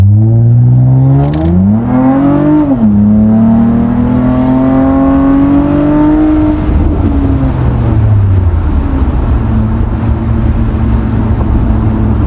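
A straight-piped 2019 Toyota Avalon revs and downshifts in sport mode, its loud exhaust note rising and falling with a sharp crack around the shift, then settling into a droning lower hum, heard close with no talking.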